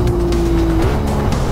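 Hyundai IONIQ 6 N electric car playing its N e-Shift virtual engine sound, a loud, steady synthetic engine drone with a held tone that shifts in pitch near the end, as on a gear change.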